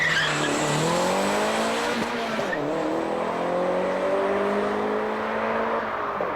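A Toyota race car on a timed run at the 1989 One Lap of America revs hard through shifts while its tires squeal and skid, a sustained loud screech with engine note rising and falling.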